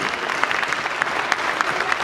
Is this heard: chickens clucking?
no